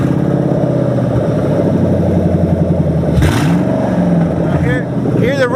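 A Ford Crown Victoria engine revs steadily close by, a continuous droning rumble that rises and falls in pitch, with a voice talking over it in places.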